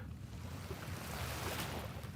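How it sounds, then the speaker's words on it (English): Calm ocean waves wash softly in a continuous, faint low hiss and rumble with no voices over it. "these calm waves are very relaxing this morning, aren't they?"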